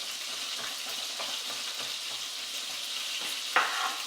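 Food frying in a pan during a home cooking class, a steady close sizzle with soft crackles throughout and a brief louder clatter near the end.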